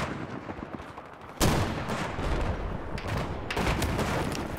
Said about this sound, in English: Wow, mortars coming out.